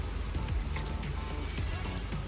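Rain falls steadily on surfaces, a dense close patter of drops with scattered sharper splashes, continuous throughout and with a voice faintly present underneath.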